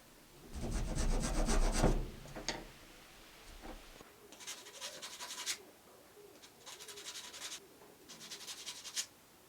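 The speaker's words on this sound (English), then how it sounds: "sandpaper that, smooth it out" Sandpaper rubs along wooden edges in a few bursts of close, dry rasping strokes separated by short pauses, with faint birds chirping in the background and no talking.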